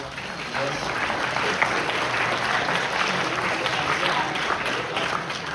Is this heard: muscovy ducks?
no